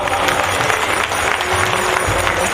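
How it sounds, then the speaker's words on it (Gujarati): A crowd claps in dense, sustained applause to welcome guests at a religious gathering, loud and close, filling the moment with a steady roar of hands. "તાળીઓથી વધાવી લો બાપા"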